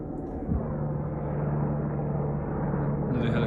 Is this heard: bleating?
no